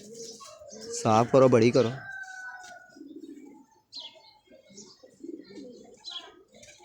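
Pigeons kept as pets coo close by, with one strong burst of throaty warbling calls early on. Softer coos and chirps follow while someone talks over them.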